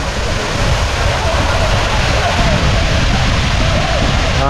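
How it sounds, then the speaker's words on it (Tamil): Loud, steady roar of the Akaya Gangai waterfall in the Kolli Hills heard from close by, a dense rushing wash of falling water that fills the whole clip without pause. "அந்த அருவி வந்து பக்கத்தில் இருந்து எப்படி இருக்குது அப்படிங்கிறத இந்த வீடியோவில் காட்டுறேன்"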